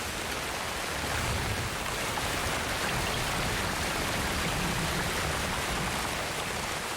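Heavy rain pours steadily in the Amazon rainforest, a dense, loud, unbroken hiss of drops with no voices, holding constant throughout.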